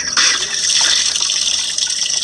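Water runs steadily from a newly installed tap, a continuous close hissing gush that holds at one level for the whole moment, with no talk over it.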